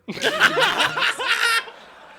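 Brief audience laughter, a short burst of chuckles and snickers lasting under two seconds before fading out, with no clear clapping.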